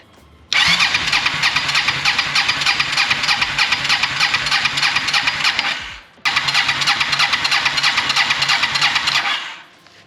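An old Honda Shadow motorcycle with a flooded carburetor cranks loudly and close, the starter grinding in a long, fast, even stutter. It stops briefly, then cranks again for several more seconds.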